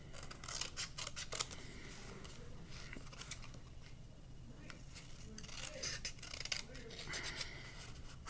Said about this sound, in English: we're going to cut out our frame